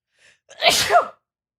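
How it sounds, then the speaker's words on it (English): A single sharp sneeze, close and clear, preceded by a brief inhale. "You have to sneeze."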